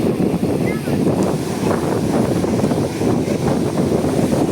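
Strong habagat monsoon wind blows after a typhoon, roaring loudly and steadily and buffeting the microphone with dense, rushing noise.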